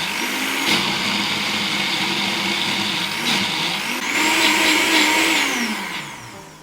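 Blender whirring loudly and steadily as it purees horseradish with beets into a smooth paste, its motor pitch dipping and rising slightly as the load shifts, with no talk.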